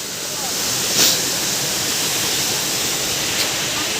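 Steady, full roar of the Darjeeling Rock Garden waterfall tumbling down the hillside, a close, constant rushing wash of water throughout with no break.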